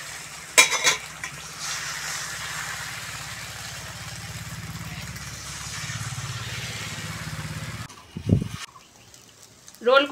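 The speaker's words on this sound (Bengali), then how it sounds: "রোল করে ডিমটা ভেজে নিলাম" A rolled egg fries in a pan with a steady, close sizzling hiss over a low hum for several seconds, then it stops and a few clatters follow.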